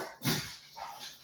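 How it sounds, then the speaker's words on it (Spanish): A dog barks indoors in a few sharp bursts, fairly faint and close in a quiet home, with nobody speaking. "tengo al perro ladrando"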